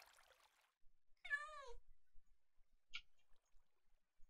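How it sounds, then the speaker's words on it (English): A cat in the Minecraft video game lets out a clear, quiet meow in a rising and falling tone, followed by a short chirp a moment later, heard over near silence after a brief faint rustle. "I just heard a cat"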